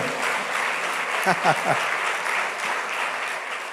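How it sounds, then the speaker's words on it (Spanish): A church congregation breaks into applause, a steady, fairly close patter of clapping, with a brief raised voice or cheer cutting through midway. "Démosle un aplauso al Señor"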